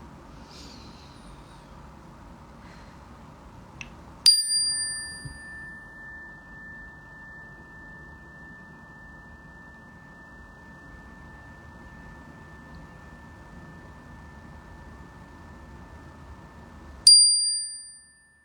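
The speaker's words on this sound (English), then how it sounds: "Cleansing the energy with my chime bell. I'm going to do 4 chimes." A chime bell is struck twice, far apart, each strike giving a clear bright ping and a long, steady ringing tone that sustains between the strikes over faint room noise.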